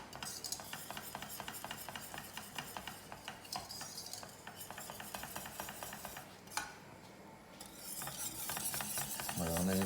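A utensil stirs a mussel curry sauce in a pan, producing steady close scraping and swishing strokes over a soft sizzle, with a brief clatter near the end.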